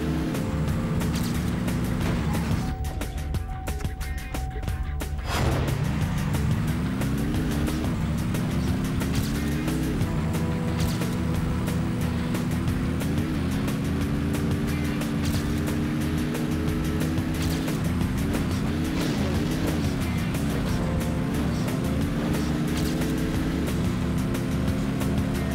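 Racing car engine in Trackmania United Forever, a steady droning whine that rises and falls in pitch as the car accelerates and shifts, playing alone with a brief break early on.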